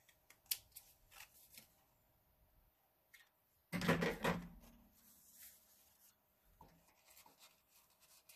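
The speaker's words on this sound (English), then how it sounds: "And trim it up." Scissors trimming the paper edges of a junk journal page, a few faint snips and rustles, then one louder crisp cutting stroke close by, with quiet handling sounds afterward.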